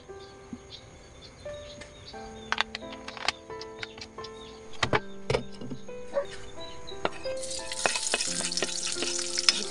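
Garlic sautés in a pan, a soft sizzle with clicks and ticks of a utensil stirring, and the frying swells louder toward the end.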